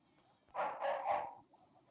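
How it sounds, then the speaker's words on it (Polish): A single short burst of a dog barking, a quick two- or three-part yap at moderate distance against a quiet background. "Sorry za szczekanie psa w tle,"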